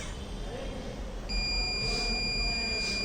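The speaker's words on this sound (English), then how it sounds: "whenever any fault detects, then automatically the light will off and the buzzer will get switched on." Buzzer alarm of a wireless railway bridge damage and track fault notification system switches on partway through, a steady high electronic tone sounding continuously over low background hum, fairly close.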